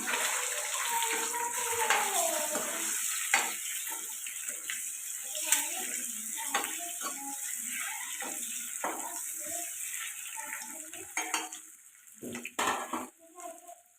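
Eggs frying in a pan for a green-chilli egg curry, a steady close hiss and crackle of hot oil running throughout, with scraping and clinking of a utensil in the pan toward the end and no talk.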